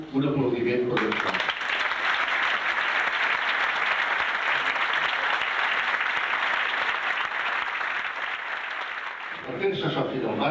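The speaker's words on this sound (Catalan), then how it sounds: "Per vosaltres us prego un aplaudiment per això." A crowd applauds the opening of a Penya Barcelonista supporters' club venue in Calafell, sustained dense clapping for about eight seconds before fading out, with voices speaking just before and after.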